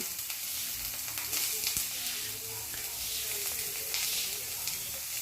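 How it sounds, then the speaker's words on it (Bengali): Chopped onions hit hot mustard oil in a pan and give off a continuous, moderately loud sizzle and hiss with a faint stir or two, and no voices. "দুটো মাঝারি সাইজের পেঁয়াজ কুচি তেলের মধ্যে দিয়ে দিচ্ছি।"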